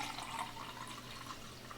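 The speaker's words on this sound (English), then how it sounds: "I have my official Star Trek glass that I can use to fill it up." Water pours into a drinking glass in a quiet indoor setting, a soft, steady trickling splash at low volume that runs for the whole short stretch, with no talking.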